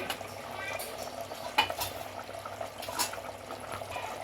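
A spoon stirs goat head curry in a pan after coriander powder and dried coconut powder go in, giving soft scraping and wet sizzling with a few sharper clinks, close and moderate in level.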